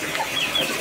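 Farm chickens clucking softly close by, a steady low hen chatter with a few brief higher calls and no talking.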